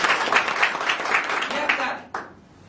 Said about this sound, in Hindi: मैं चाहूंगा इन तीनों के तीन महान डायरेक्ट एक जोरदार ताली बजा